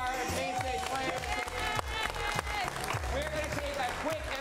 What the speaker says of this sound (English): let's give a round of applause to our main stage players